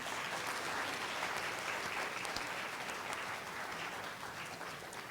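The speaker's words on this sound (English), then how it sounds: "let's give our newly invested member of the Girl Guide and Girl Scout movement a round of applause." A ceremony crowd applauds a newly invested Girl Scout member at an official event, an even, sustained round of clapping heard from some distance and fairly soft throughout.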